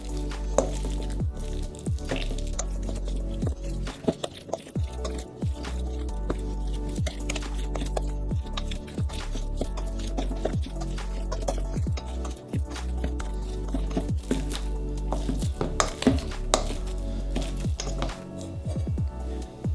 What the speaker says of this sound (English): I'm continuing the mashing of the potatoes